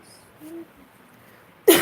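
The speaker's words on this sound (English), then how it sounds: "I just had a cough." A single short, sharp cough from a mother at home during a quiet coloring session, bursting out near the end after near silence and a brief faint voice.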